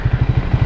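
Triumph Speed 400 motorcycle engine held in a lower riding mode, giving a short, steady pulsing engine note with regular low throbs, close and fairly loud with no talk.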